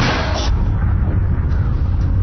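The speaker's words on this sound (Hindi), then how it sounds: "एयरलॉक में विस्फोट हुआ है।" An explosion rips through a spaceship airlock as the hull is breached: a loud, close, heavy blast that rolls into a sustained low rumble and roaring noise.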